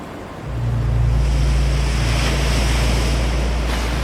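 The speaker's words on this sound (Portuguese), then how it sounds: "onde as águas dos oceanos Atlântico e Pacífico colidem diretamente" Turbulent ocean waves in the Drake Passage, a loud, continuous roar of surf and wind that swells in after a quieter start, with a low rumble throughout and no voices.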